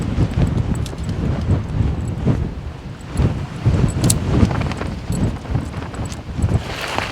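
Strong storm wind of around 46 to 50 mph buffets a budget tent outdoors in a UK storm, producing a constant loud roaring rush with irregular gusty thumps and flapping, close to the microphone and without speech.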